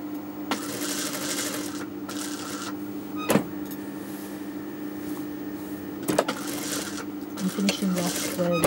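Sewing machine stitching fabric for a boy's jubba, running as a steady close mechanical whir with brief pauses as the fabric is turned, under a talking voice.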